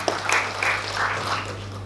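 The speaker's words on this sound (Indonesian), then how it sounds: "Tepuk tangan untuk Simeon Ginting." Audience applause at an Indonesian youth talk event, a short burst of clapping from a crowd over a steady hum, moderately loud and without speech.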